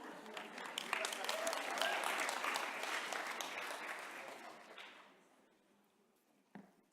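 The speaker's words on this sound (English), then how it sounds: "I wasn't expecting round applause." Audience applause rises quickly into a full, steady round of clapping, then fades over a few seconds into near silence, broken by a single late clap.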